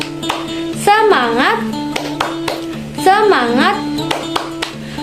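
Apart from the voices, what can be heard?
children's rhythmic hand clapping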